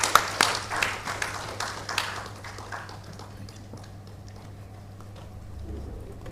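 A round of applause welcoming a panel moderator at a campus event: brisk, close clapping from an audience that starts strong, then thins into scattered claps and fades to quiet room tone.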